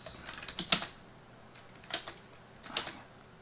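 Computer keyboard keys tapped while writing JavaScript code, heard as a few sparse clicks in short bursts, close and moderately quiet, with no talking.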